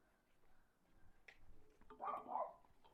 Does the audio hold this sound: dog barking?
yes